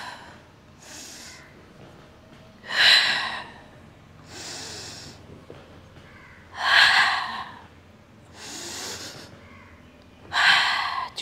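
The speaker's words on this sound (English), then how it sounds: "Exhale." Audible exhales during a hip rotator mat workout come in three strong breathy pushes, with softer inhales between, close and unaccompanied by talk.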